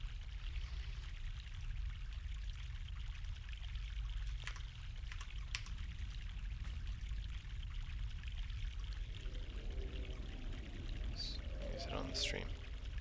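Continuous flowing stream water from the video game The Longest Journey, a steady rushing wash with a few faint clicks near the end.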